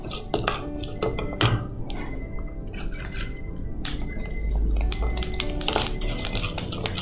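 Rice roasts in a little oil in a metal pan while a spoon stirs it, making repeated close clinks and scrapes over a soft continuous sizzle, with no talking.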